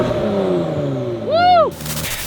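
A Ford GT fitted with a new aftermarket exhaust revs sharply, its engine note climbing and falling in one loud, close burst over a steady idle.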